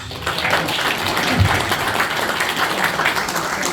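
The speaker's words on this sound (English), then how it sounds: "Give it a round of applause." Audience applause at a live Shaken Not Stirred fan event for the James Bond film Moonraker, a steady, dense wash of many hands clapping from a crowd, sustained and fairly loud throughout without letting up.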